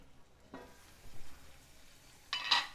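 Vegetables and curry leaves are stirred in a cooking pan, with a few quiet, separate scraping strokes and soft frying sounds spread across a short, otherwise hushed moment, and no talking.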